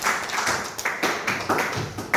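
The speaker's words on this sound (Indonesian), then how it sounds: "Oke, tepuk tangan dulu." Class of students in a tenth-grade math lesson claps together, a series of loud, close, rhythmic hand claps in quick unison beats.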